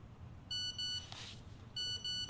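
A new phone gives two pairs of high electronic beeps, short and evenly spaced, separated by a brief pause, over quiet room noise with no talking.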